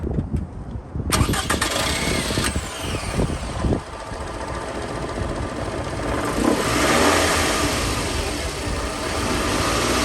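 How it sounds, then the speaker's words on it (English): A 2007 Toyota Camry engine cranks and starts after an alternator repair, catching with a rising rev and then settling into a steady, loud idle close by, with no talking. "go turn the car on for me"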